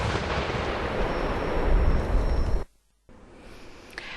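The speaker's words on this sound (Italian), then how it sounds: "si ritorna a sentire le esplosioni della dinamite" Dynamite explosions: a loud, sustained roaring blast that cuts off abruptly into near silence, then a quieter rumbling tail returns.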